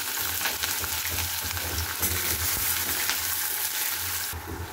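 Chopped onion and green chili sizzle steadily in hot oil in a pan, a continuous crackling hiss with small spattering pops, close and even in loudness, no talking.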